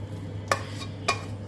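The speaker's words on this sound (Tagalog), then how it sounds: "I will mix all." Glutinous rice stirred with coconut milk in a small cooking pot, giving two distinct scraping clinks of the utensil against the pot about half a second apart over a steady low background hum.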